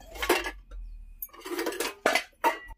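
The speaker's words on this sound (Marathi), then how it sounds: "पटापट आता भांडे घासून घेते" Clattering dishes and pots being scrubbed and knocked together in short bursts, with quiet pauses between, close by.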